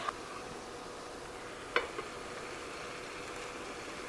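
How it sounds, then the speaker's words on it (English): Ground beef browns in a pan with chopped onions and peppers, giving a faint, steady sizzle broken by a couple of quick utensil clinks. "I'm gonna finish browning up the ground beef and softening down the peppers and the onions."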